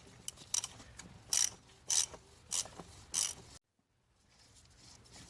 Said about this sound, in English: use a 27 millimeter socket to turn this to the left to get it started, because it's on there pretty good